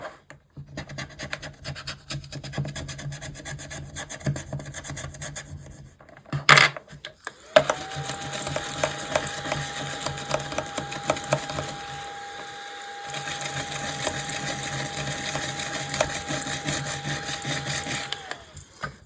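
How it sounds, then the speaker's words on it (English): A coin scraping a scratch card on a table, heard as a close, continuous dry rasping that runs nearly unbroken for the whole stretch, with a brief louder scrape partway through and no talking. "I'm going to scratch this one because I think it's a 1."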